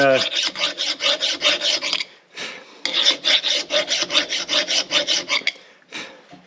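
A square file rasps in quick, even back-and-forth strokes during a brake job, two runs of about ten strokes each separated by a short pause, then one more stroke, close and loud with no talking.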